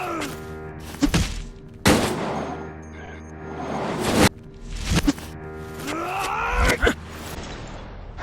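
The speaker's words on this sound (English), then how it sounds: "You smack them with your handgun, or you could just simply shoot them dead" Handgun melee smacks and gunshots in the Resident Evil: Operation Raccoon City video game: sharp bangs and thuds come in scattered bursts over low groaning and whooshes, loud and close.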